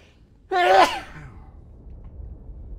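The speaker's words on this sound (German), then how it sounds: "ich ah, musste niesen" One person sneezes once, loud and close, with a sharp burst that trails off into a breathy exhale before a quiet room background returns.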